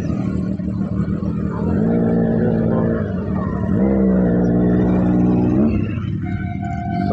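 Superbikes such as a Harley-Davidson, Kawasaki Ninja ZX-10R, Hayabusa and KTM ride past on a Sunday group ride. Loud engine drones rise and fall in pitch as each bike goes by, one sweeping up sharply midway.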